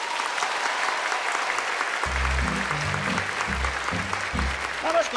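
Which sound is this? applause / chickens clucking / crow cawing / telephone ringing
applause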